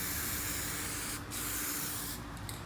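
Spray paint hissing from a can onto car window trim on a Foxbody, a loud continuous close spray with brief pauses and short bursts toward the end, alone without talk.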